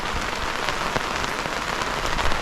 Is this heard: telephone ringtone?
no